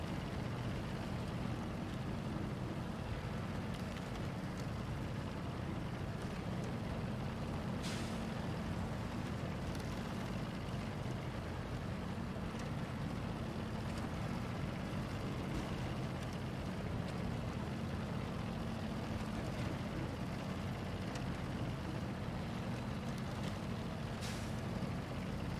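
A KHAN Lo4F truck from the video game Expeditions drives in high gear, with a loud, continuous engine drone and road rumble that holds steady throughout, no voices.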